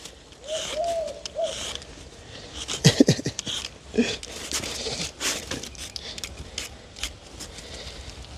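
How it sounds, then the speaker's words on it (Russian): A cuckoo calls outdoors, soft two-note hoots early on, mixed with other birdsong and scattered clatter and sharp clicks in the background. "Катюша, вот это кукушка"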